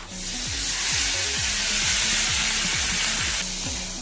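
Fish frying in a pan with salt and turmeric gives a loud, continuous sizzle, while a spatula stirs it with repeated scraping strokes in a steady rhythm.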